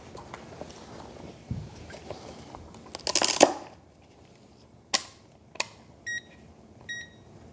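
A thrown multimeter case clatters and tumbles down a staircase, with a loud burst of impacts followed by a few scattered knocks and small beeps, and no talking.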